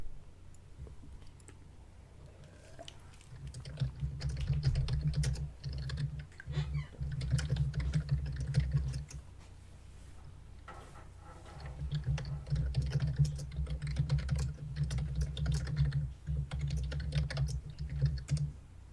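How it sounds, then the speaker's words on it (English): Furious typing on a computer keyboard set very close to the mic, in two long bursts of rapid, dense key clatter separated by a quieter pause, with no talk. "Yeah, I think it's just the fact that he's got the keyboard in such close proximity to the mic."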